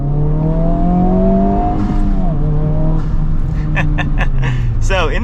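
2024 Honda Civic Type-R pulling away from a stop, its engine note climbing steadily through the revs from inside the cabin, with a person talking over it toward the end.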